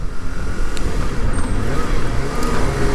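Steady road traffic rumbles on a Japanese city street at night, cars and motorbikes crawling in a jam, a continuous dense wash of engine and tyre noise heard close from a motorbike, with a faint voice briefly underneath.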